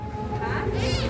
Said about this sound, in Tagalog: May kuting.